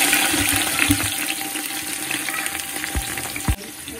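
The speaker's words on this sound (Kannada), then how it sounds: "ಚಕ್ಕೆ ಲವಂಗ ಚೂರು ಫ್ರೈ ಆಯ್ಬೇಕು" Cinnamon and cloves frying in ghee, a steady close sizzle and crackle throughout with a few sharper pops near the end, no voices.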